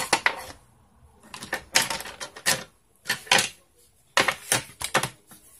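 A sheet of paper being cut for a handmade mini album, close and crisp, with short bursts of snipping and rustling separated by brief pauses.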